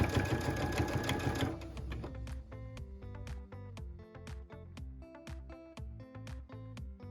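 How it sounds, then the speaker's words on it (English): A sewing machine stitches binding onto a fabric tablet sleeve, starting with a dense fast whir and then slowing into evenly spaced mechanical stitch clunks, close and clear with no talk. "we're going to continue stitching this all the way around and doing each corner the same way"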